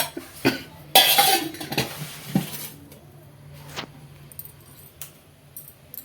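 Corn kernels tip into a pan of hot oil, a clattering burst of metal-on-pan knocks and a brief sizzle, followed by scattered lighter clinks and quiet pauses.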